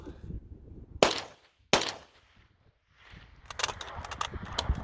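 A few loud gunshots from a New Century Arms VSKA rifle fired with a 29-round magazine and an extended mag release: two sharp cracks with a pause between, then clatter and handling noise.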